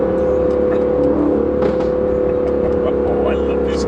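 Aston Martin Vantage engine running steadily with a strong low drone and mild revving from inside the cabin, continuous throughout.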